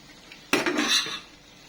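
A spoon scrapes and stirs green chili sambal in a pan, one short clattering burst of metal on pan that fades after about a second.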